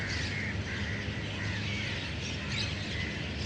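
Dense chatter of a flock of birds at dusk, many overlapping chirps and calls filling the air steadily and fairly close, with no pauses.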